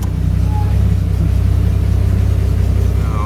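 A steady, loud engine drone heard from inside a moving car, with a continuous low rumble and no pauses, while the car is driven on the road.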